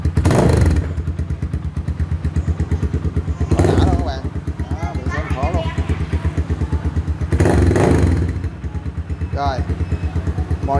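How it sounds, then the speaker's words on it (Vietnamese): A motorcycle engine idles steadily with a rhythmic exhaust putter, close by, while people talk over it and a few louder thumps break in. "cho em mở máy nổ thử thì cái tiếng bô như thế nào nha"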